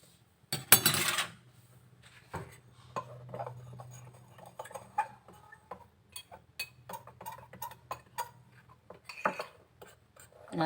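Flour and sugar being stirred in a bowl, giving irregular light clinks and scrapes of a utensil against the bowl, with a louder clatter near the start and a low hum underneath.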